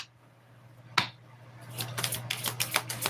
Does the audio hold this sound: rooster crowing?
no